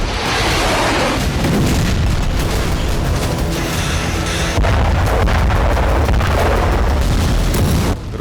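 A heavy explosion from a Ukrainian drone strike on a Russian steel plant in Cherepovets rumbles loudly, deep booming and roaring blast noise continuing for several seconds with a second surge midway.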